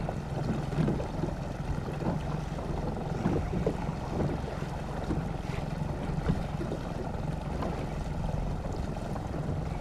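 A fishing boat idles on open water with a steady, low engine rumble under wind buffeting and splashing water. The sound stays even and unbroken throughout.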